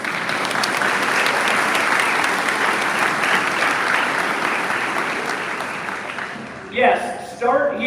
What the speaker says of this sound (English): How about a round of applause for my bride?